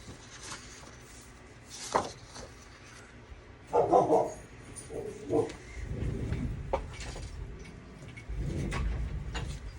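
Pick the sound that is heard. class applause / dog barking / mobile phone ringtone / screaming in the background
dog barking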